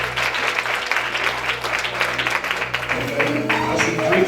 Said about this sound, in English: Come on and clap your hands.